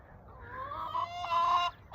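Backyard hens, skittish after a night when a fox was about, give a few close, drawn-out clucking and squawking calls over a quiet background.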